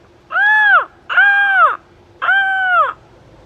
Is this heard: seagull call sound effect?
yes